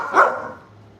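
A Doberman gives a single sharp bark at close range, begging for food, followed by quiet.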